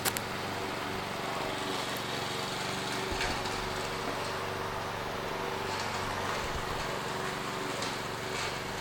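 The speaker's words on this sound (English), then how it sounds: "He is mowing a trail" A lawn mower cutting a trail somewhere off at a distance, its engine droning steadily and evenly throughout, with outdoor background noise and no talking.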